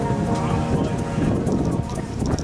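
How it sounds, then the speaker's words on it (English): Strong wind buffets the microphone with a constant low roar and rumble on a beach in Tulum, Mexico, steady throughout with no clear speech. "It's windy"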